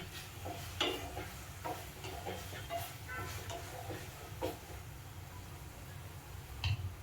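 Tomatoes stirred into pav bhaji vegetables frying in a pan, with a low steady sizzle and a few soft scraping clicks of the spoon, close and fairly quiet.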